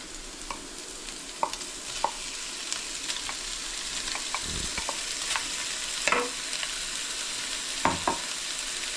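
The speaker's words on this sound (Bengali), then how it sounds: "এখন আমি দেখুন এর মধ্যে চিংড়ি মাছ দেব" Prawns sizzle steadily in a hot pan for a chicken and prawn stir fry, with occasional scraping clicks of a spatula stirring them, close and moderately quiet, no voices.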